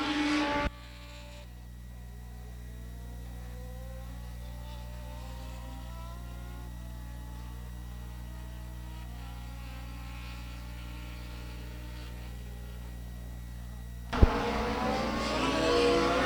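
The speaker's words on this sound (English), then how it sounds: "Eight car comes around, 1 lap to go this time around for the 8 car." Race cars at a local speedway circle the track, their engines droning steadily at a distance for several seconds with a faint rising and falling pitch, bracketed by louder bursts of nearby commotion at the start and end.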